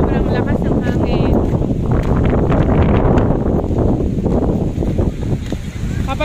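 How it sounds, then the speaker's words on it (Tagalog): Strong wind buffets the microphone outdoors in a broad, constant roar that never lets up, with people talking over it. "Sobrang lakas ng hangin."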